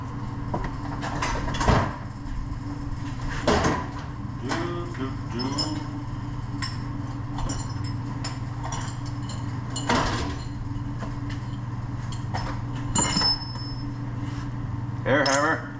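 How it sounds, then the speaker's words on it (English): Repeated sharp metallic impacts of an air hammer striking the front wheel hub of a 2015 Dodge Ram 1500 ring out at irregular intervals over a steady low machine hum in a workshop, with occasional speech in the background. "Air hammer."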